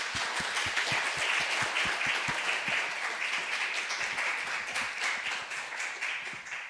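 Applause from an audience at an academic panel event for the presenters, a steady dense clapping with some distinct individual claps, tapering slightly toward the end.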